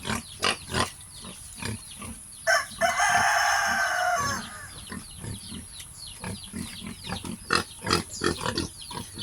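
Hens cluck in short, repeated bursts while a rooster lets out one long crow midway, with farmyard noise around them.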